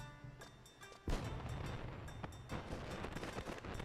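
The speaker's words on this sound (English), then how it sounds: "What better way to end this series 1 than on fireworks?" Fireworks in Final Fantasy XI go off at a festive night scene: a sharp thudding burst lands about a second in, followed by scattered crackling pops and softer booms, fairly faint overall.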